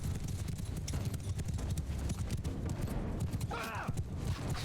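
Horses gallop in a Mount & Blade II: Bannerlord battle, a dense, steady run of hoof clatter amid loud combat din, with a brief voice cutting through near the end.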